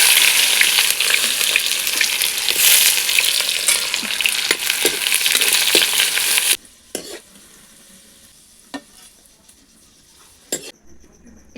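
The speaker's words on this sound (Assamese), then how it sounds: "এতিয়া প্ৰথমতে মই বেৰিষ্টাখিনি মানে পিঁয়াজখিনি অলপমান ভাজি লওঁ" Sliced onions frying in hot oil in a pan for biryani: a loud, dense, steady sizzle for several seconds, then it cuts off, leaving a quiet room with a few light clinks of utensils.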